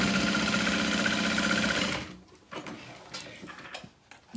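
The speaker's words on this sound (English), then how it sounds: "I'm just gonna sew that 1/2 inch seam allowance all at once." A sewing machine stitches a handbag side panel seam in a steady, fast mechanical whir for about two seconds, then stops, leaving a few faint clicks and handling taps nearby.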